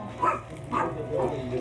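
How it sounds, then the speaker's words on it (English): A dog barks in Madeira, three short yappy barks in steady succession, fairly close against a low background hum. "Inevitably, wherever you go, there's a barking dog in Madeira"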